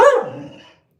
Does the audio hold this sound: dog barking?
yes